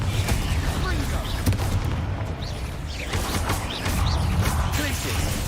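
Spell blasts from Confringo and Bombarda bursting in the Hogwarts Legacy video game, a dense run of booming, crackling impacts that goes on without a break, with a voice calling out spell names over them.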